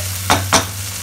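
Onion paste being stirred in a hot frying pan, two quick scraping strokes over a soft sizzle, close and clear, with a low hum underneath.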